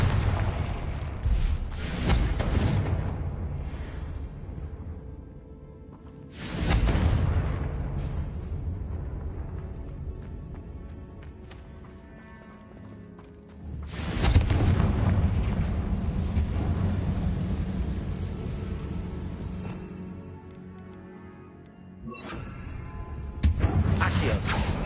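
Fiery Confringo spell blasts in Hogwarts Legacy go off as repeated loud booming explosions with rushing whooshes, three big bursts spaced several seconds apart and each tailing into rumbling combat noise.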